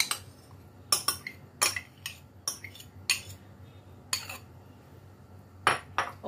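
Sharp, irregular metal clinks of a utensil striking a bowl while yogurt is mixed into oil, a dozen or so distinct taps with quiet gaps between them, close and clear.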